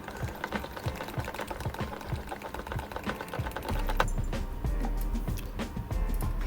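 An electric hand mixer whips double cream for a cream cheese bun filling, making a close, continuous motor buzz with fast rhythmic rattling against the bowl.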